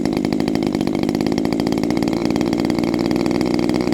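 Small engine running loud and steady during break-in needle tuning, giving a continuous close buzzing drone with a fast even firing pulse throughout.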